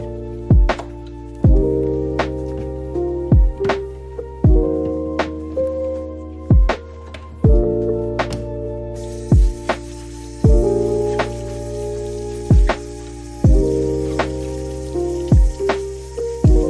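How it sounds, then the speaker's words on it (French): Non-slip drawer liners being washed under a running kitchen tap with dish soap and lukewarm water, giving repeated sharp splashing thumps and tonal plinks in a loose rhythm over a continuous water hiss. "Je lave juste sous le robinet, liquide vaisselle et eau tiède"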